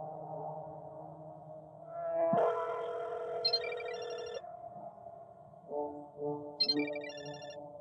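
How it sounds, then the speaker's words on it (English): A phone rings during a call in Chilla's Art horror game Parasocial, its electronic ringtone chiming in repeated bursts over a low droning tone. "I'm going to try and call Oscar."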